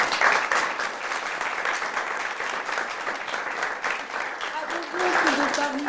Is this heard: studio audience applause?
yes